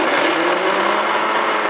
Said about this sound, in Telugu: సో ఇవన్నీ ఏం చేస్తామంటే మనం జస్ట్ ఇట్లా మిక్సీ కొట్టడమే